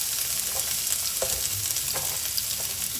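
Onions dropped into hot oil in a pan sizzle and fry with a steady, broadband crackle, with a few soft stirring scrapes now and then, close and alone with no talk.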